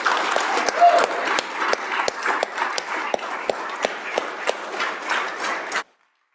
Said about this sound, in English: like a round of applause for Kelly.